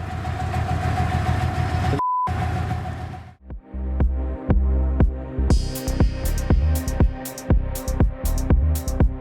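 A diesel locomotive engine powers up, its heavy low rumble rising after a brief gap and a short tone, joined by repeated sharp metallic clacks and hisses as the train moves, loud and close with no talk.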